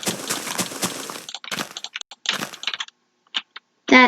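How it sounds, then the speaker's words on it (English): Sharp computer mouse clicks during Minecraft play, some in quick clustered bursts and others isolated, sit alongside denser crackling game noise at the start. "You can hear my mouse clicks."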